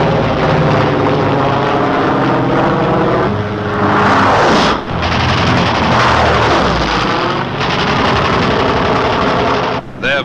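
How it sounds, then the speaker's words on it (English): Piston-engined P-47 Thunderbolt fighter planes in World War II air combat, a loud continuous engine roar that swells and shifts throughout, with brief dips near the middle and the end. "the Thunderbolts peel off to intercept"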